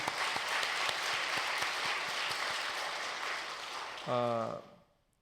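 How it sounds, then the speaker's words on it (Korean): A Korean church congregation at a Sunday service in Queens applauds in a steady, dense wash of clapping for about four seconds, then a voice rises briefly over it as it fades out. "우리 하나님께 영광의 박수 드리겠습니다"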